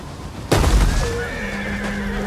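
A horse whinnies loudly in a medieval strategy video game, a sudden sharp neigh with a falling wavering tail lasting over a second, close and clear, with no talking.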